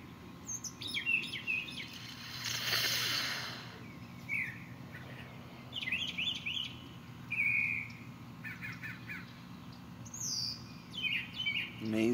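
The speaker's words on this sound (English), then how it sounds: "You hear those birds?" Many birds chirp and call outdoors among trees still bare of leaves in early spring, a busy overlapping chorus of loud, near tweets and trills with brief squawks, lasting throughout.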